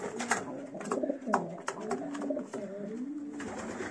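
Pigeons coo in repeated low, rolling phrases, close by and fairly steady, with a few soft flutters and rustles between calls.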